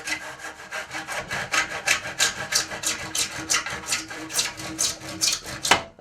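A hand saw cuts through a piece held in a metal vise with short, regular back-and-forth strokes, a close, rasping rhythm of about a dozen strokes ending in a sharp final scrape.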